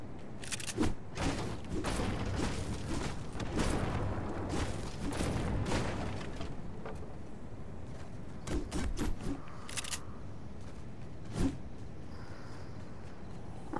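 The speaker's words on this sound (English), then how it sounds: "Another submachine gun." Submachine gun fire in a shooter game with random skins: scattered bursts of rapid shots, some loud and close, others fainter, spread over several seconds amid game clatter and without talk.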